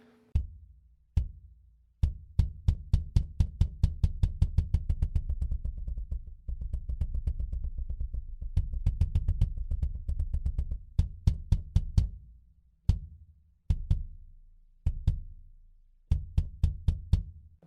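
Kick drum miked with an SE V-Kick microphone, struck in single hits and quick rhythmic runs of deep, punchy thumps, some hits muted against the head and others left to ring, close and loud with brief pauses between phrases.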